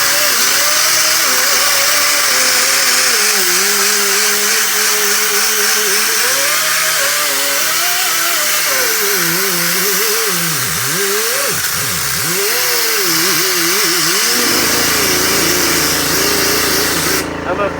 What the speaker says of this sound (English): I'm officially gonna wire wheel the whole thing.